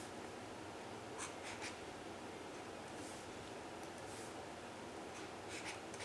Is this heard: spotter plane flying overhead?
no